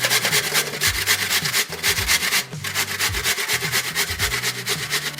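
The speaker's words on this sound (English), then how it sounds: "So let's grate our potatoes first. I'm gonna grate them." Raw potatoes grated by hand on a grater, a steady rhythmic rasping rub repeated in quick strokes with a short pause midway, close and fairly loud with no talk.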